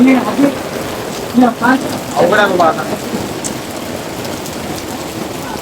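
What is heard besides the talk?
heavy rain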